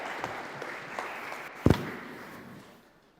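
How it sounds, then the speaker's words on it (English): A seated audience at an indoor event claps in a modest round of applause that tapers off, with a sharp knock or thump midway and the clapping fading toward the end. "So if we can give her a round of applause,"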